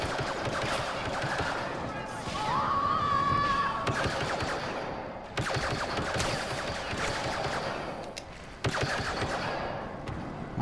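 Shotgun fire in a Star Wars Battlefront Death Star match, heavy blasts recurring every few seconds amid dense battle noise, with a player talking over it.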